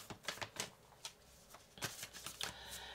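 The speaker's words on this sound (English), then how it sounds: "I'm shuffling in the meanwhile for the mystical shaman oracle that I want for this reading." Oracle and tarot cards shuffled close by, with quick papery riffles and soft slaps in uneven bursts, one flurry after another.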